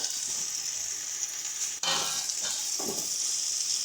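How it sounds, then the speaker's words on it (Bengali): Pre-fried potatoes tipped into a pan of spiced masala for a prawn and pumpkin dish set off a steady, moderately loud frying sizzle, with a sudden burst as they land and a few soft stirring scrapes. "এবারে দিয়ে দেব আগে থেকে ভেজে রাখা আলুগুলো"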